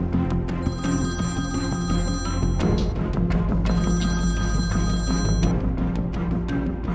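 A telephone rings in repeated bursts of bright electronic tone with short gaps between, loud and close, over a low background hum, no speech.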